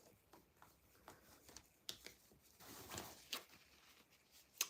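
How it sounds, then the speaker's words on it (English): Tarot cards are shuffled at close range in a quiet room, with soft irregular riffles and flicks and a few sharper snaps. "Okay, one more shuffle."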